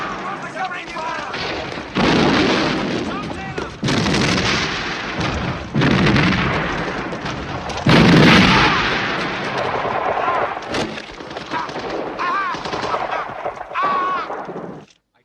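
Heavy covering gunfire and artillery roar through a 1977 war film battle scene at Arnhem, with sustained booming blasts and rattling shots filling the scene loudly and continuously, while shouted voices break through the din.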